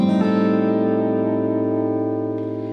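A single A half-diminished guitar chord struck once and left to ring, sustaining clearly and slowly fading, with no voices.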